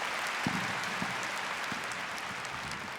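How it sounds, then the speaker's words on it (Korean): A church congregation applauds during a sermon at a Love Sonata gathering in Tokyo, a steady, fairly distant wash of many hands clapping that holds evenly for about three seconds with no speech over it. "神様に拍手を捧げましょう。"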